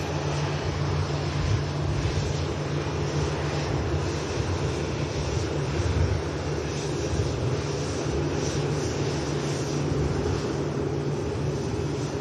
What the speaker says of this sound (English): a Dreamliner heading out to India